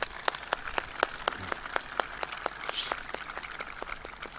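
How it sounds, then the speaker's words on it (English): Applause at a U.S. Army V Corps change of command ceremony in Poznan, Poland, with a sparse, moderately distant audience clapping in a fairly steady scattered rhythm throughout. "Let's give John and Buffy one more round of applause,"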